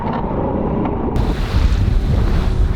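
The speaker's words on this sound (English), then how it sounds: "Just testing out the backup engine." A backup Suzuki outboard engine on a small inflatable speedboat runs steadily after a year unused, its low drone close and loud under heavy wind buffeting on open water, growing rougher and louder partway through.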